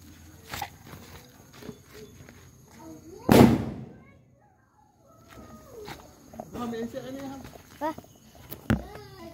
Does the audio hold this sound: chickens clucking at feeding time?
no